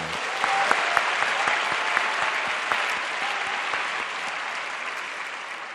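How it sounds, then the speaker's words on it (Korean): A church congregation gives warm applause after a Christmas choir performance, a steady wash of many hands with a few sharp, distinct claps standing out, continuing evenly and then fading slightly at the end. "다시 한번 격려의 큰 박수 올려드리겠습니다."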